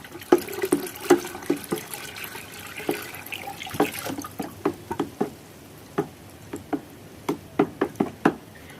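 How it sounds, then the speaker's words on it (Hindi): Copper sulfate stirred into lime water in a container, giving sloshing liquid at first and then a series of spaced knocking taps from the stirring, close and moderately loud, with no talk. "और अब हम इसमें डालेंगे कॉपर सल्फेट।"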